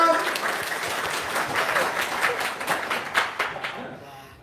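Steady applause from an audience at a business talk, fairly loud clapping for about four seconds before fading at the end, with faint voices underneath.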